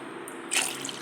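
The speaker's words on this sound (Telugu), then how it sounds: "2 గ్లాసులు నీళ్ళు పోసానండి." Water poured from a glass into a pot of lentils, a brief splashing gush rising suddenly midway through a short, close, quiet moment.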